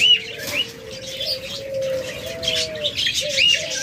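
Pet birds in a shop, budgerigars, cockatiels, lovebirds and diamond doves, chirp and coo continuously and close by, with a low steady cooing line under bright overlapping tweets and no talk.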